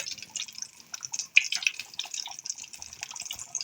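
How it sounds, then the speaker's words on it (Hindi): Raw potato chapli kebabs sizzle in hot oil, giving a faint, steady crackle with scattered sharp pops and spits close by. "अब हम इनको बनाते जाएंगे और गर्म ऑयल में ही इनको डालते जाएंगे।"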